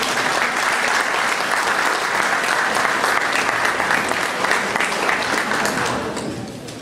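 Loud, sustained applause from an audience at an evening session of a specialization course on Peru's new state contracting law, held with the Lima Chamber of Commerce arbitration centre. The clapping is steady and dense, with no voices, and fades near the end.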